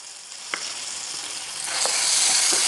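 A spice paste with bruised lemongrass sautés in a pan, making a steady, close sizzle that grows slightly louder. A few faint stirring taps sound over it, and no one speaks.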